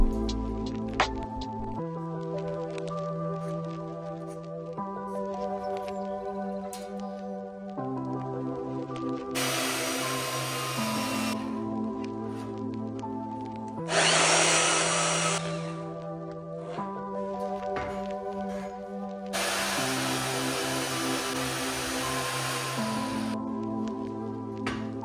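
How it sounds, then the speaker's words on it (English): Steel angle is saddle cut for a trailer frame built from an old camper frame, heard as three loud, harsh bursts of abrasive cutting, each lasting a few seconds, with steady tonal background music throughout. "We're gonna move on and start saddle cutting some of the angle."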